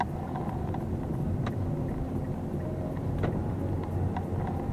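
A Mitsubishi Xpander heard from inside while driving and overtaking in traffic: a steady low engine and road rumble with wind noise, a couple of faint clicks, no talking.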